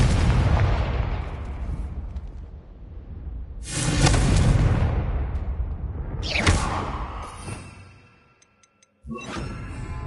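Confringo blasting spells explode in the wizarding game Hogwarts Legacy: several loud, booming bursts with rumbling tails, separated by brief lulls.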